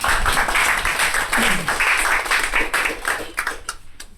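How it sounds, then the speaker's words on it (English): An audience at a career-growth bootcamp lecture for active citizens gives a short burst of applause, with a voice speaking over the clapping. "A round of applause for her."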